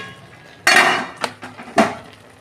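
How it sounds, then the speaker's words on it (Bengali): A metal lid comes off a pot of simmering colocasia greens with hilsa fish head, giving a sharp clattering clank followed by a couple of lighter knocks and a second clink, close and loud. "আমি ঢাকনাটা খুলছি"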